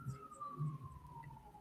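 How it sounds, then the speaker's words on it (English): Emergency vehicle siren outside a window, a single drawn-out wail heard faint and muffled at a distance through the room. "And then the sirens that we could hear from outside the window."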